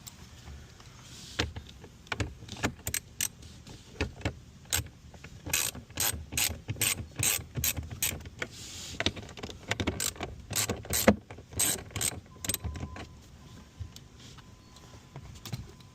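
Hand ratchet backing out 7mm screws from a Ford F150 dashboard, making fast, close clicking runs in irregular bursts over a faint background.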